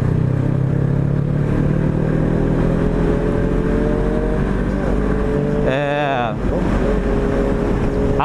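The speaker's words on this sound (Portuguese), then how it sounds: "A borboleta lá do escape soltou o parafuso que segura a borboleta, vai arrancar fora, vai ficar com seu som esportivo." Honda CB500F motorcycle engine running with a loose exhaust baffle, a steady close droning hum with a brief rising warble near the end, with talk over it.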